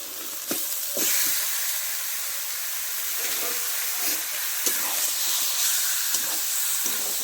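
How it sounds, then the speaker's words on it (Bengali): Chicken meat hits hot oil and spices in a pan for a chicken curry with green chillies, a steady loud sizzle and hiss running throughout with occasional sharper crackles and stirring clinks. "এবার মাংসটা ঢেলে দিচ্ছি।"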